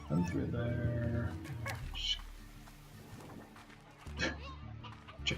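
Chickens cluck in the video game Slime Rancher, short clucks and squawks popping up over game sounds and background noise.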